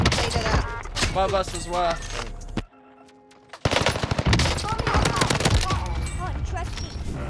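Loud, close machine-gun fire rattles in the Warzone video game, with a brief silent gap before the rapid bursts resume, and someone talks over the shooting.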